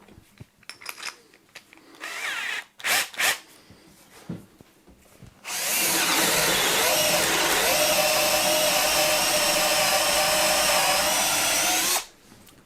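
A Bosch drill fitted with the Flexi Click system bores a 10mm hole, whining loud and steady for about six seconds after a few short clicks and bumps of handling beforehand.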